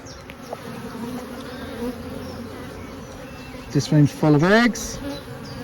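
A dense, steady buzz of honeybees swarms around an open hive during an inspection. Someone speaks briefly over the constant humming near the end.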